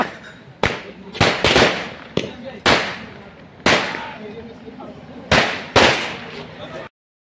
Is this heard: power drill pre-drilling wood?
no